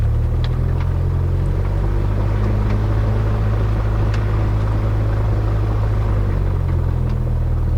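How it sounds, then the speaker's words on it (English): A small airplane's engine drones steadily at low power as it taxis and turns around on the ground before takeoff, a loud, continuous rumble with no speech. "So now we start to turn around the plane."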